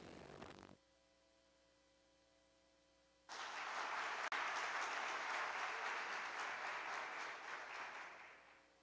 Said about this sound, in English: Let's welcome Sophia the robot with a round of applause.